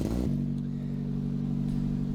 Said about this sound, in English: so you get to hear the cold start